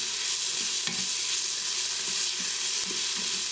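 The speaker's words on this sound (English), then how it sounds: "I'm going to add that to the pot. I'm going to go ahead and stir." Minced garlic sautéing in an Instant Pot, a steady, close sizzle with soft, regular stirring scrapes running under it throughout.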